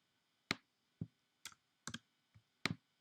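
Keys clicking on a computer keyboard as a number is typed, six separate sharp taps spaced roughly half a second apart, close and clear against a quiet background.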